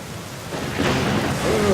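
Thunder rumbles and rain falls in the Black Mirror video game, a low broadband roar that swells and stays steady for under two seconds, with no speech over it.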